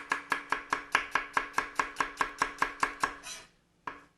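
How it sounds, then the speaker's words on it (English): A knife slicing onions thinly on a cutting board for chicken soup, about fifteen crisp, evenly spaced chops close up, then a pause and one final cut. "I'm just going to quickly slice this up"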